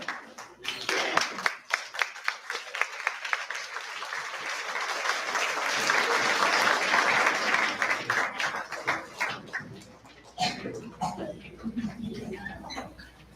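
An audience at a fifth grade awards ceremony claps, starting with scattered hand claps, then swelling into dense, sustained applause before thinning out and rising briefly again near the end.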